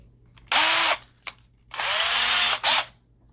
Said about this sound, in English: let me get a bigger drill bit on that